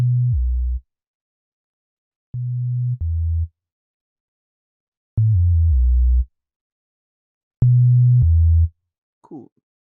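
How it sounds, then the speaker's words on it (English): Deep, smooth bass instrument from the Nexus VST in FL Studio, playing short sustained notes in pairs separated by silent gaps, clean and prominent, in an Afrobeat gospel instrumental. "we have these bass instruments played from Nexus VST."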